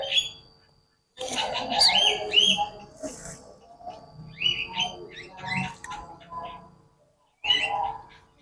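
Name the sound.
bird singing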